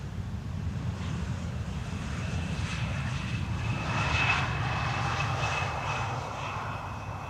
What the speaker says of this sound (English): Time for another rare Embraer. Arriving from Kristiansand. This is an Embraer 175